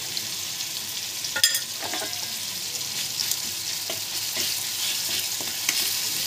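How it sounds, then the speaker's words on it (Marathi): Homemade masala with turmeric and coriander powder frying in a pan for brinjal curry, a steady bright sizzle broken by a few scraping stirs of a spoon, no talking. "मसाला चांगला फ्राय झालेला आहे."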